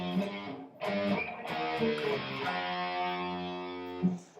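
Distorted electric guitar chords from the backing under the solo of a song, ringing out alone with a brief gap before a long sustained chord.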